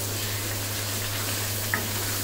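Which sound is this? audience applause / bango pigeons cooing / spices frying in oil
spices frying in oil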